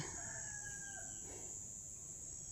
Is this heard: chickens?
yes